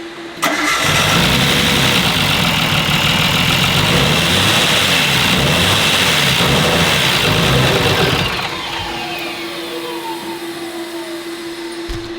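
A Nissan R32 Skyline engine fires up and runs roughly on only three cylinders, loud and sustained for about eight seconds before dropping to a quieter, steady idle.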